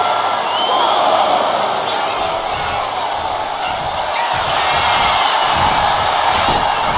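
A WWE SmackDown live arena crowd cheering during a women's wrestling match, a loud continuous roar of many voices filling the whole stretch with bursts of whoops over it.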